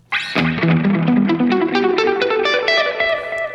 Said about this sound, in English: Let's check out the spring reverb.